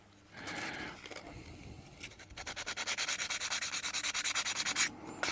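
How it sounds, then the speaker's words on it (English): A small metal part from a Makita 18V angle grinder being rubbed with very fine sandpaper, first a few slow strokes, then a fast, even run of short rasping back-and-forth scrubs, close and fairly quiet. "clean with some very fine sandpaper, or wet and dry"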